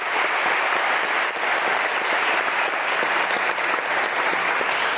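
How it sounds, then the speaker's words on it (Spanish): Continuous audience applause at a Bitcoin-themed award ceremony, a full, even clatter of many hands that keeps a steady level without letting up. "Les pido un aplauso breve por él."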